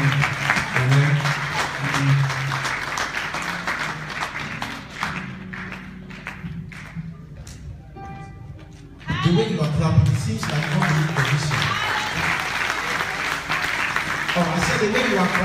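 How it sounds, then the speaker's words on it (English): A church congregation claps along during a sermon, rhythmic clapping running under a preacher's talking and some music, thinning in the middle before picking back up strongly. "the way you are clapping"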